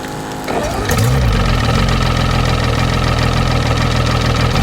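Milwaukee M18 Switch Tank sprayer pump, set to level 5 and drawing in water, kicks on about a second in and then runs with a loud, steady mechanical hum and buzz.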